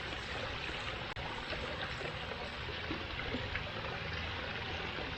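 Water spills steadily from a koi pond waterfall filter, a continuous close rushing trickle with no voices.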